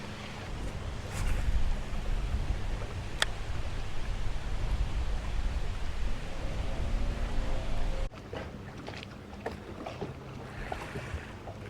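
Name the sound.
strong swirling wind while fishing from boat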